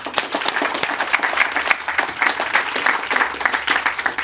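Lively crowd clapping at an outdoor groundbreaking ceremony for Hillside Park in Clackamas County, with distinct, uneven hand claps rising and falling over a few seconds.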